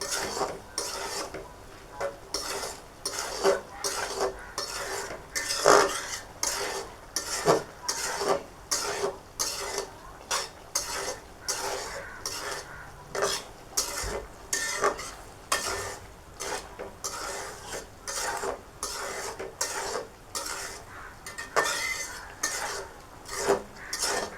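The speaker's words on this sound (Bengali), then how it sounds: "এখন এগুলো আমি কষিয়ে নেব" Vegetables for a Bengali dish sauté in a pan while a utensil scrapes and clatters against the metal in a steady, quick rhythm over a soft background sizzle, close and continuous.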